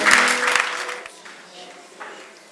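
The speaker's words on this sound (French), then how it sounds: "Nous acclamons le Seigneur très fort ce matin." Church congregation at a morning service applauding and cheering loudly, a dense burst of clapping and voices that fades over a couple of seconds.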